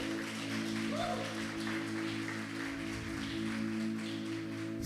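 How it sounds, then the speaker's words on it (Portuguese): A church congregation applauds with a continuous, fairly distant wash of clapping that sits over a steady electrical hum, with no one speaking. "Pode aplaudir a Ele."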